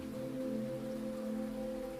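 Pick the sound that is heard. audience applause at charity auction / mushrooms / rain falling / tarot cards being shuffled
rain falling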